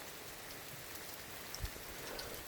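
Steady rain falls on the Appalachian Trail, a dense, even patter close by with a few louder drops, and no voices.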